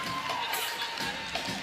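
A loud crowd roars and whoops at a college gymnastics meet, with BYU and West Virginia at Utah. The cheering is continuous and swells in a few bursts, with faint talk mixed in.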